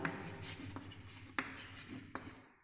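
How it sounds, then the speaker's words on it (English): Chalk writing sentences on a classroom blackboard, a faint scratching stroke sequence with a few sharper taps, close and quiet over a soft room background. "let me write those sentences on the blackboard"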